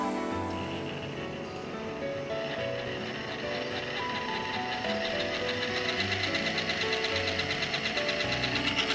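A small electric motor on a hall-effect test setup spins up as the throttle is raised, its tonal whine and buzz climbing and growing steadier and louder toward the end, heard up close with no speech.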